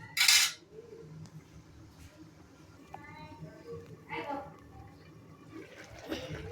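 A metal lid clanks sharply onto a cooking pot of jatka fish simmering with potato and vegetable stalks in a village kitchen, one loud close clatter at the start, then quieter background clinks and a soft voice.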